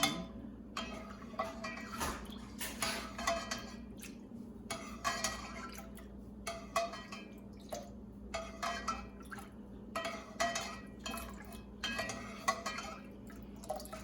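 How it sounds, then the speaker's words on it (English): A spoon stirs honey into homemade black elderberry syrup in a pot, giving close, irregular clinks and taps against the side, with soft liquid sloshes between them and no voices. "Stir that in."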